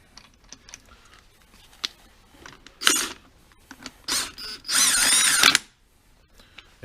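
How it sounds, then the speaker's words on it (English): Bolt being fitted into the front pulley of an engine during a cambelt and timing job, heard as quiet ticks and clicks followed by short bursts of a power tool, with the longest whirring burst near the end. "And the bolt goes in."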